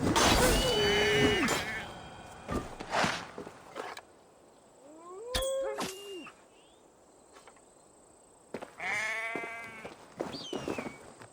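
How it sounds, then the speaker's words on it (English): Sheep in Assassin's Creed Valhalla give several clear wavering bleats, one near the start, another mid-clip and more near the end, with game ambience and brief sounds between them. "Sheep will be torn apart if I do not do something."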